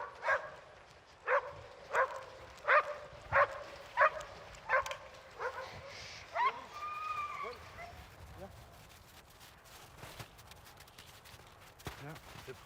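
Sled dogs bark and yip outdoors at a mushing kennel in the Haut-Jura, a regular run of sharp nearby barks that thins into scattered yelps, with people talking in the background.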